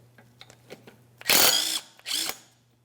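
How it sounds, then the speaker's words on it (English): A power tool with a 17mm socket spins off the control arm adjustment bolt on a 2002-2005 Ford Explorer, giving two loud, close whirring bursts after a few light clicks and taps. "Now we're going to remove our adjustment bolt. For that, we'll use a 17mm socket."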